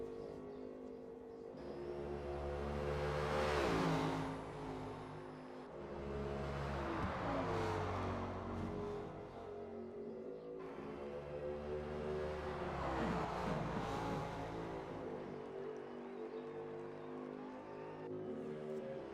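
Racing engines from a Ford Mustang and a BMW in a Le Mans endurance racing game, a steady revving drone that rises and falls through gear changes and passes at moderate distance, alone without talk.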